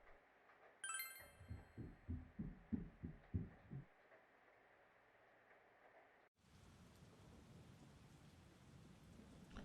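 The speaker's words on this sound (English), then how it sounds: "You can hear it raining outside." Rain falling outside at night in the Persona 4 Golden video game, a steady dense hiss that comes in abruptly midway, after a chime and a run of soft rhythmic thuds.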